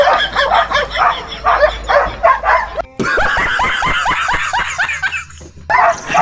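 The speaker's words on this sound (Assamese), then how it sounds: "লেচু খাই থাকোঁতে কুকুৰে খুব ভুকিছে" A dog barks loudly and close by in rapid, repeated bursts, with yips mixed in, in an Assamese village setting.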